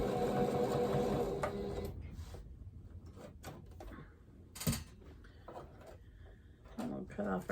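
Sewing machine back stitching a quilted fabric basket, a quick burst of close motor whirring and needle clatter, then softer handling clicks and rustles of the fabric.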